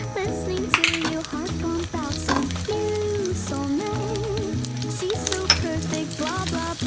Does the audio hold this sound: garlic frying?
yes